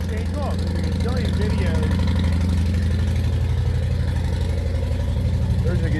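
A Harley-Davidson motorcycle engine idles steadily to warm its oil, a constant low throbbing rumble with a voice talking faintly over it.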